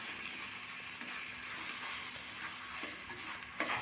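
Chicken pieces are stirred and fried in a pan for a curry, a soft, even sizzle with light scraping and a few clinks of the spoon, close and fairly quiet.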